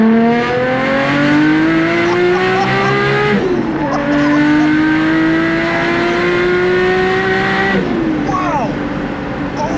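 A straight-piped Nissan Skyline R33 revs loudly and raw at night, its engine note climbing in long sustained pulls, dropping sharply and climbing again, close up and alone.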